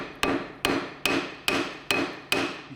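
A small hammer strikes the rusty lip of a Peugeot 206 front brake disc six times in an even rhythm, each hit a sharp, close metallic clank, with no talking.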